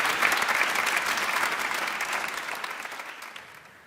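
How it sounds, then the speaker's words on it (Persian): An audience at a stage event applauds steadily for several seconds, a dense wash of clapping that slowly fades. "تشویقش بکنین."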